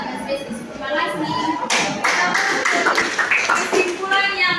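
Students applauding together in a classroom, a sustained burst of hand claps that swells and carries on steadily at close range with faint voices mixed in.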